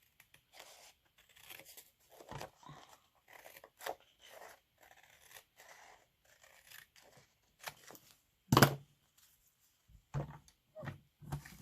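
Scissors cut paper for a glitter napkin card in short irregular snips and crinkles, close and quiet, with one louder crunching cut partway through.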